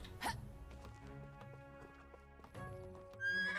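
A horse in the Medieval Dynasty video game whinnies loudly near the start, then its hooves clip-clop steadily, with a second burst of neighing near the end and no talk over it.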